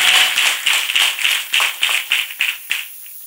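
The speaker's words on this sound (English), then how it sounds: "Clap for Master Jesus," Congregation clapping in a church: a brief run of rhythmic, fairly close claps at a steady beat that slows and fades out after a few seconds.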